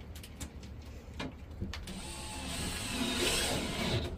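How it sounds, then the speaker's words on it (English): Screws going into an air-conditioner mounting bracket: a few sharp ratcheting clicks, then a faint, steady mechanical whir from the driver, heard close up. "Now let's put the rest of the screws in here."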